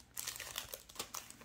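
Cellophane wrapper crinkling as it is peeled off a trading card display case, close and quiet, with a run of sharp crackling bursts.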